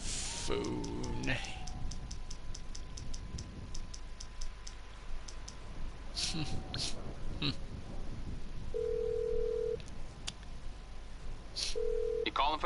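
Phone dialing in Grand Theft Auto 5 Online on PS4: a series of quick keypad ticks and clicks, then two steady dial tones, with game speech and background sounds running throughout.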